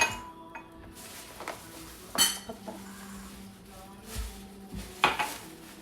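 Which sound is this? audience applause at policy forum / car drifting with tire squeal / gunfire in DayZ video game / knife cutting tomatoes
knife cutting tomatoes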